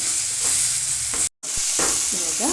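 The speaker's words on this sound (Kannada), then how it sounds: "ಚೆನ್ನಾಗಿ ಫ್ರೈ ಆಗಿದೆ ಒಗ್ಗರಣೆ ರೆಡಿಯಾಗಿದೆ" A tempering with coriander leaves crackles and sizzles loudly in hot oil in a pan, a steady dense hiss broken by a brief silent gap and a few sharp stirring scrapes near the end.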